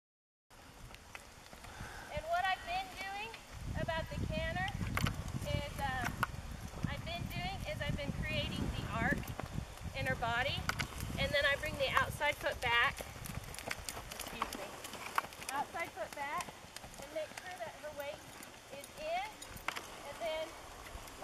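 A three-year-old Missouri Fox Trotter mare gaits with rhythmic, repeating hoofbeats heard close, while people talk over the footfalls for most of the clip.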